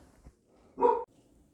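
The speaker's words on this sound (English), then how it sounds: "My dogs were barking." Dogs bark once in the background, a single short burst from a distance behind a quiet room setting with no talk.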